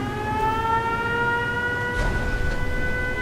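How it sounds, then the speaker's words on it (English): An in-game civil defense siren in Fallout 4 wails steadily and loudly with layered sustained tones, rising slightly in pitch across the stretch, with no one speaking. "Dude, it's a siren."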